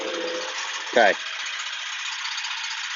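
A John Deere X300 lawn tractor engine runs at a steady, loud idle close by, and a person briefly says a word over it.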